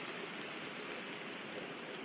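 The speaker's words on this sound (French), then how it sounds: "il pleut, il y a du vent" Steady rain and wind wash over a winter bivouac, a constant broadband hiss with no breaks, fairly faint and with no voices.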